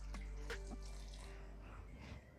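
Water pours steadily into a pot of minced meat and potato stew already holding coconut milk, a continuous close splashing rush lasting a couple of seconds with no talking.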